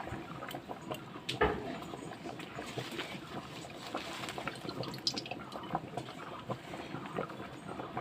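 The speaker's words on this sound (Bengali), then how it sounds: "এটা একটু আমি ফুটিয়ে নেব মানে জাল দিয়ে নেব আলুটা একটু সেদ্ধ সেদ্ধ হবে" Potatoes simmer in a pot of water, a faint, steady bubbling with soft irregular pops and drips, heard close and alone.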